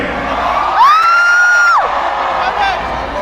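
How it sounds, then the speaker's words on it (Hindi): A live show crowd in Dubai shouts and whoops, with one long sustained yell rising above the cheering mass and a voice briefly mixed in. "सारे चिल्लाएं जोर से everybody"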